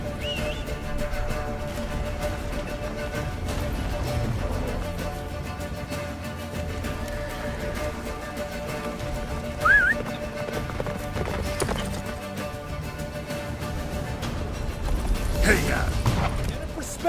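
Roach, a horse in The Witcher 3, gallops with steady clip-clop hoofbeats beneath a constant bed of game music and ambience, alongside a brief whinny-like tone midway and a louder swell near the end.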